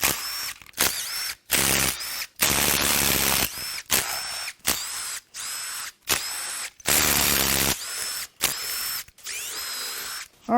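Power tool zipping out intake manifold bolts on a 2015 Dodge Ram 2500 5.7 engine, about ten close, loud bursts of drilling whir separated by brief pauses, with no talk.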